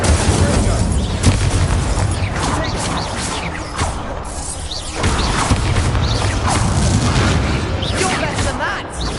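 The Incendio fire spell is cast repeatedly in combat in Hogwarts Legacy, with dense booming blasts, crashes and mechanical clatter running continuously at close range.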